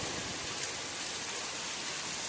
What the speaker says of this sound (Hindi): देख सकते हैं कितना तेज़ बारिश हो गया है